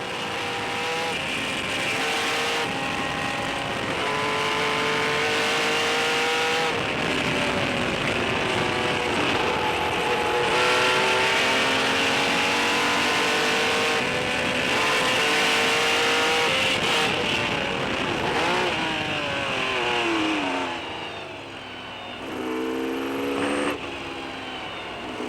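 Historic race cars lapping the Spa circuit during the Spa-Classic, loud engines revving up through gears and passing one after another in a continuous, layered roar with rising and falling pitch.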